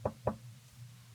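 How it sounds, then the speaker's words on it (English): Two sharp knocks on a door, close and distinct, about a quarter second apart, followed by a low steady hum. "Like there's a knock at the door."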